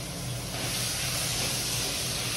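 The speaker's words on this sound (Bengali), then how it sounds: "তাই একটু শুকনো লঙ্কা দিয়ে দিলাম, আর এই যে তেলটা দিয়ে দিচ্ছি।" Oil left over from frying hilsa fish is poured into a pan with dried red chillies. It gives a steady, broad sizzling hiss that stays loud and even throughout.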